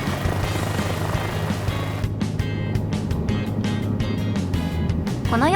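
A Cabri G2 helicopter in the Microsoft Flight Simulator 2024 game, flying over Tokyo, gives a continuous engine and rotor drone with steady low throb, and intermittent clicks and bursts over it.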